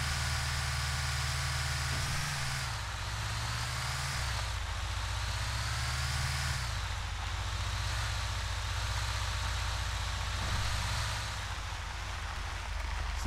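A bus engine in GTA V revs and drones continuously as the vehicle accelerates, a steady loud low rumble with shifting pitch and no talking over it.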